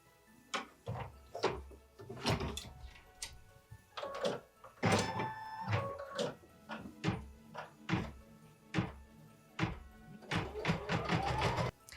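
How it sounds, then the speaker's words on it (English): An embroidery machine stitches sewing guidelines on fabric and stabilizer for a Christmas mini project, giving repeated sharp thunks and clacks in a steady run, fairly close and alone. "We're going to slip it into the machine and do machine step number 1, which is stitching the sewing guidelines."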